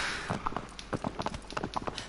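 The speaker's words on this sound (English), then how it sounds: "I like it, the horse movement, the sounds of the horse" Horse hooves trotting in the Shadow of the Colossus video game, a quick run of distinct clip-clop beats close up in a steady rhythm, heard on their own with no talk.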